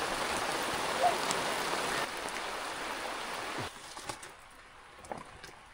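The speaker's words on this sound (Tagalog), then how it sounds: "Biglang lumakas yung ulan pagdating namin." Steady rain falls on a remote mountain village in Benguet, a dense even hiss that eases after a few seconds into lighter, scattered drops and patters.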